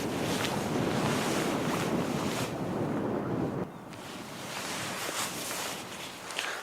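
Cold wind blows outdoors, a steady broadband roar buffeting the microphone that eases slightly partway through and then keeps rushing on alone.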